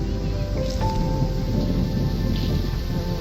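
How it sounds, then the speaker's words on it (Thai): Wind blows outdoors on an evening in Taiwan, a steady low rumbling buffeting with faint rustling layered over it, continuous and fairly loud. "เสียงลม"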